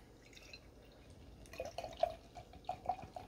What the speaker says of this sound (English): I've been pouring my stouts a little, like, more aggressively lately.